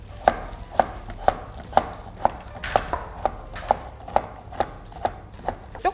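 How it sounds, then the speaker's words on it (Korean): A knife julienning radish for kimchi strikes a cutting board in a steady run of about a dozen crisp chops, roughly two per second, close and clear over quiet background. "먼저 저희가 이 무는 이제 채를 썰어 주셔야 돼요."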